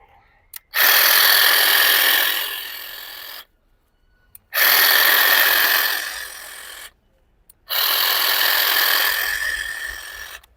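An electric hedge trimmer runs in three long bursts of buzzing, rasping cutting as it trims home garden bushes, close and loud, with short silent pauses between bursts.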